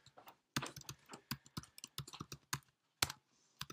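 Crisp, separate keystrokes on a Mac keyboard entering a Terminal command, in an uneven rhythm with a few sharper key presses, close and clear with no talk.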